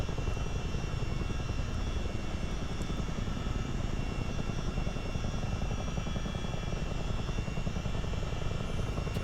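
A Miltech CH-47 Chinook helicopter's engine and rotors in a flight game while flying the Mach Loop, a steady dense whine and throbbing hum that stays even throughout, no voices.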